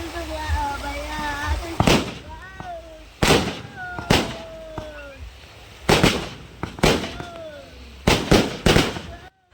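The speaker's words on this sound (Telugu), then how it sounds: "చూసారు కదా టపాకాయలు కూడా కాలుస్తున్నారు" Several loud firecracker bangs burst at irregular intervals, close by, at a village Ganesh idol immersion festival, while whistling and shrill cries rise between the blasts.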